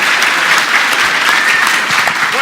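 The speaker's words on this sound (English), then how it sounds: "Big round of applause, guys." Loud, dense applause from a crowd at a developer session for Total War: Rome II at Rezzed 2013, sustained clapping with no pauses throughout.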